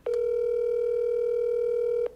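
A steady telephone dial tone hums continuously for about two seconds at even loudness, preceded and ended by faint clicks, with no voices over it.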